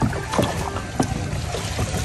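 A non-motorized wooden boat glides past on a river, making a close swish and lapping of water with a few soft knocks, with no engine noise.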